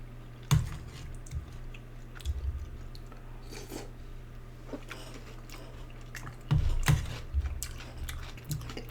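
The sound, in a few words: chewing beans while eating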